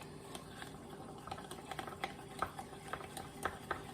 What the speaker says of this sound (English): You're going to stir it really well.